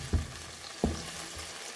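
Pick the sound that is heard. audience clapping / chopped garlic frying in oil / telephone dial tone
chopped garlic frying in oil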